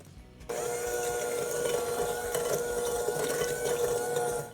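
An electric mixer whirs steadily at close range as it blends white granulated sugar, three eggs and vanilla extract for a zucchini bread batter, with a constant motor whine that starts suddenly and runs for about four seconds.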